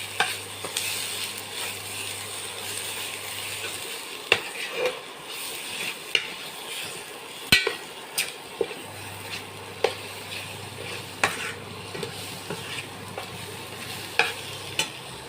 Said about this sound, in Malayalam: ഇതിൻ്റെ എണ്ണ തെളിയുന്നിടം വരെ ഇളക്കി കൊടുക്കാം